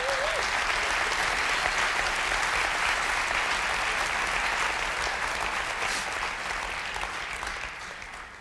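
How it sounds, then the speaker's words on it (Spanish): A church congregation applauds loudly and steadily for several seconds, a dense wash of clapping that gradually thins and fades toward the end. "Denle un aplauso al Señor."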